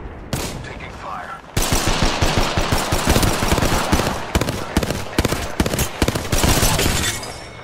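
Gunfire in the Apex Legends video game: rapid bursts of automatic weapon fire crackling at close range after a brief pause, continuing loud and dense with short gaps between volleys.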